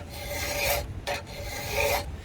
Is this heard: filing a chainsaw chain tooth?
yes